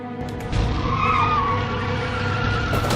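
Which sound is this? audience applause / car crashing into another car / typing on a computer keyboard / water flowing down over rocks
car crashing into another car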